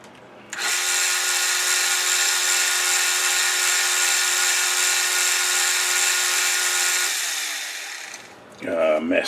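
Lathe parting tool cutting off a metal workpiece, a steady loud whining screech that runs continuously for about seven seconds, then fades as the cut finishes, followed by a brief clatter.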